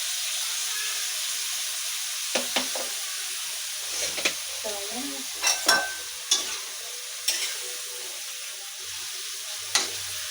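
Stir-frying in a pan with soy sauce added, a steady hiss of sizzling under scattered scrapes and clinks of the utensil against the pan, close and moderately quiet.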